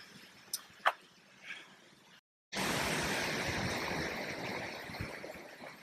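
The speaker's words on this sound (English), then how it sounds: "Close your eyes and listen to the sounds of the waves." Ocean waves roll in as a loud, steady surf roar that starts abruptly after a brief silence. A few faint knocks and scrapes come before it.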